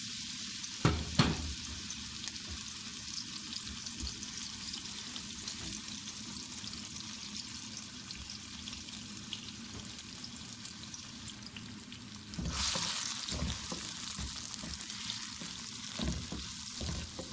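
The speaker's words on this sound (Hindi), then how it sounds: "प्याज को हल्का सा फ्राई कर लेंगे, कच्चापन दूर करके।" Chopped onions fry in hot oil in a pot, giving a steady, fairly quiet sizzle throughout, with a few sharp stirring knocks near the start and a brief swell of crackling partway through.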